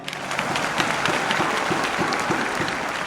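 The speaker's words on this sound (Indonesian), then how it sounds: "Tepuk tangan dulu buat istri saya." Steady applause from a talk-show audience, dense continuous clapping at moderate loudness throughout, with no talking over it.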